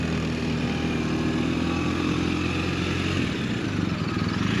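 A motorcycle engine hums at low speed through slow, controlled turns during a police riding training session, steady and close with slight dips and rises as the clutch is feathered, no talk.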